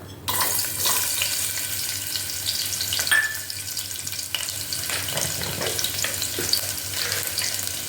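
Mustard seeds spluttering in hot oil for a Tamil bottle gourd kootu, a steady close sizzle with scattered sharp crackles and pops and no talk.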